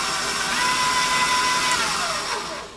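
An electric mixer with a paddle attachment whirs steadily while beating cream cheese, sugar and vanilla for a peanut butter pie, a close, constant motor whine that eases off at the end.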